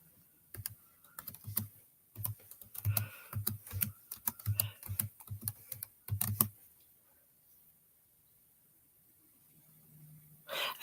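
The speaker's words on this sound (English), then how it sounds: "I have to type it in." Typing on a computer keyboard in bursts of quick, close keystrokes for about six seconds, then a pause with faint breathing and a soft low hum, ending with a brief rustle.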